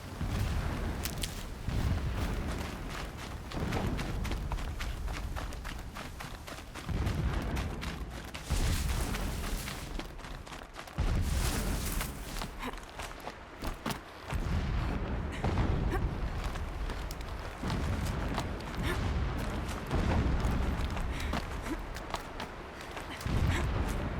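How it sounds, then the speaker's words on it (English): Repeated heavy booms and blasts from the video game Horizon Zero Dawn roll in at irregular intervals, rumbling and muffled as if far off, with a dense noisy backdrop between bursts. "Explosions in the distance."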